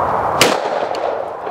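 A shotgun fires once at a clay target with a sharp, loud outdoor blast that decays quickly, set against steady wind and background noise.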